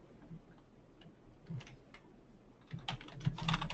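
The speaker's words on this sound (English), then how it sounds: "And we'll just type it in." Quiet clicking of a computer keyboard as text is typed into a church website editor, sparse at first then a denser run of keystrokes, close up and soft, with no voices.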